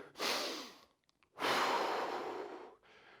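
After a low-intensity home circuit workout, a person takes heavy, audible breaths close up: a long exhale, a short pause with faint clicks, then another long, drawn-out breath, with no speech.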